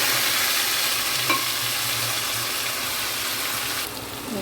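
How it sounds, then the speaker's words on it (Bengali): A marinated masala paste with ginger fries in oil for a chicken pulao, giving a continuous hissing sizzle with a single clink of a utensil near the start; the sizzle brightens toward the end. "এটা তেলে দিয়ে দেবো। এটা সুন্দর করে এখন কষিয়ে দেবো।"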